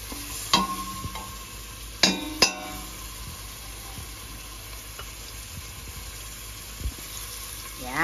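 Onion and garlic sautéing in a pan for caldereta, a steady soft sizzle with a few sharp clinks and scrapes of a utensil against the pan scattered through.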